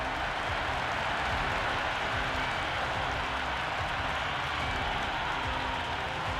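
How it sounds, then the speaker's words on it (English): A large stadium crowd at a Big Bash cricket match between Adelaide Strikers and Melbourne Stars cheers and applauds in a dense, continuous roar, loud and sustained throughout. "The crowd is electric right now."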